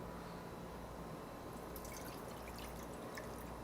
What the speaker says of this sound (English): we're going to add our water to this pot